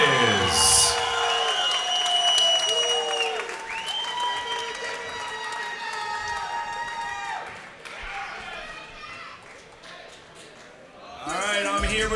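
Applause and cheers from the crowd fill an MMA event after an arm-triangle submission win, starting loud, then easing into a softer murmur before swelling again near the end, with announcer talk over it.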